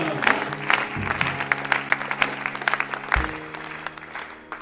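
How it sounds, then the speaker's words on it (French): A church congregation claps together in a fast, steady rhythm of sharp, close hand claps, with a low hum of voices or music underneath. "Alléluia, acclamons le Seigneur"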